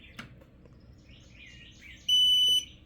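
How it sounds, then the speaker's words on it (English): A Creality Falcon 2 Pro laser engraver with faulty USB ports gives one loud, steady electronic beep as it senses a USB connection, preceded by faint clicks and quiet background chirps. "there's the beep."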